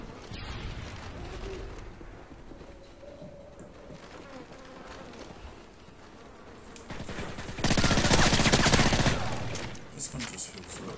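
Rapid automatic gunfire from a first-person shooter video game, dense bursts that build to a loud sustained volley near the end, with a voice talking over parts of it.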